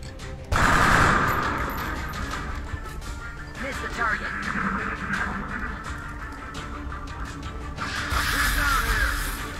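Rapid automatic weapon fire from the soldier Sakamoto in XCOM: Enemy Within, a dense burst of shots rattling on for several seconds amid busy game effects.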